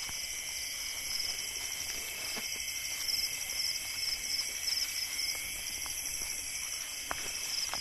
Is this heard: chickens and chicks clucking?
no